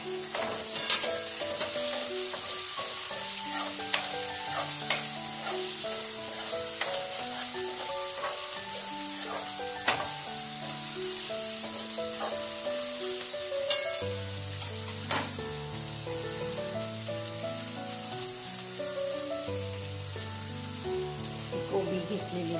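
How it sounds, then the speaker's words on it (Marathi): Spring onion stir-fried over medium heat in a pan while cooking hakka noodles, a steady sizzle with repeated scraping stirs and clinks running throughout, close and fairly loud, with background music. "हा ओला कांदा आहे, आपल्याला ही जी पात आहे ती नंतर टाकायची। ओला कांदा टाकून घ्या।"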